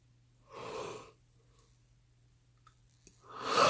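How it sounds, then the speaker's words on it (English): A person yawns late at night, giving two drawn-out, breathy exhalations close to the microphone with quiet clicks between them. "sorry about the yawn"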